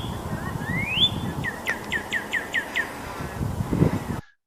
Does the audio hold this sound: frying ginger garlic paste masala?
no